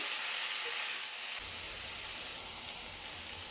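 Onion paste being stirred into spinach in a hot pan, a steady close sizzle and scraping hiss that grows louder partway through and continues without talk.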